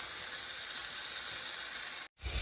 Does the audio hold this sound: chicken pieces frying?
yes